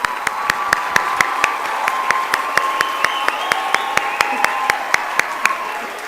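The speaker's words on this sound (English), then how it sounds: "Let's give a big warm round of applause to all the proud parents here tonight" A graduation commencement audience at an international school in Bahrain applauds the proud parents, with clear, regular individual claps standing out over a steady crowd wash and a faint sustained tone underneath.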